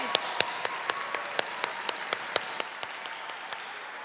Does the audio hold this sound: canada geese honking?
no